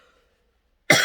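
One sharp, close human cough bursts out abruptly after near silence and lingers briefly at the end.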